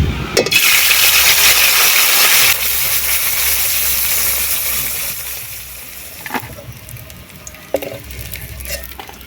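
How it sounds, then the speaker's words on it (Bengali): Sundarbans river fish rubbed with salt and turmeric hit hot oil in a kadai, bursting into a loud hiss that gradually fades to a softer sizzle, broken by a few sharp utensil clinks. "মাছের মধ্যে কিন্তু লবণ হলুদ মাখিয়ে নিয়েছিলাম এবারে দিয়ে দেব তেলের মধ্যে"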